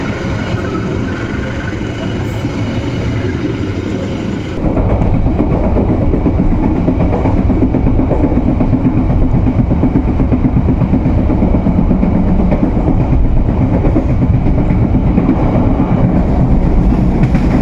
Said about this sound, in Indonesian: Perjalanan kereta api Kuto Jaya Selatan sudah sampai di stasiun Ciamis